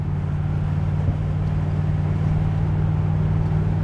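A 1980 Chevrolet Corvette cruises at steady highway speed, heard from inside as a constant low engine drone and road rumble, with no speech.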